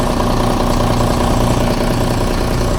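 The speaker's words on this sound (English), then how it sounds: "restart the other engine and let that warm up" A Volvo TAMD74 turbo diesel marine engine on a Silverton 42C boat idles steadily while warming up after a restart, a loud, close, even rumble with a rhythmic low-pitched throb.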